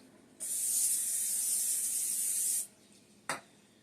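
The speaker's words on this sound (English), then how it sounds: "I am going to go ahead and spray it with some cooking spray." A steady spray of cooking spray onto a pie plate hisses for about two seconds, close and loud, followed by a short second burst after a pause.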